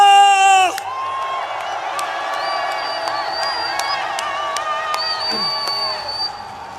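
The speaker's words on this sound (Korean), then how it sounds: "큰 함성과 함께 박수를 부탁드립니다" A large crowd at a political rally in Gwangju roars and cheers without a break, a loud and sustained mass of voices with whoops rising through it.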